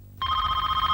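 A telephone bell starts ringing after a brief quiet moment, a loud, steady trilling ring that continues unbroken.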